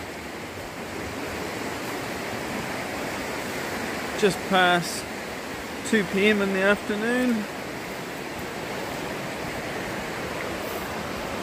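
A river flows with a broad, steady rushing wash close by, continuous throughout, while someone speaks briefly partway through.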